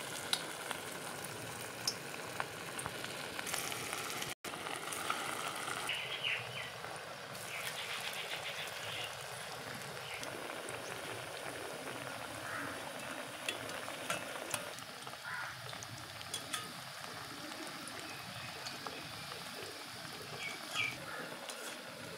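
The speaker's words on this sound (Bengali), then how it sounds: "এই যে বাদামি কালার করে ভেজে নিলাম। দেখো একবারে মুচমুচে ভাজা হয়ে গেছে।" Flattened papaya patties fry in white oil in a wok, a soft continuous sizzle with occasional scraping stirs, fairly quiet and close, while distant birds call faintly in the background and nobody speaks.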